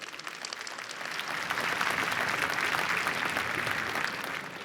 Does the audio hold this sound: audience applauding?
yes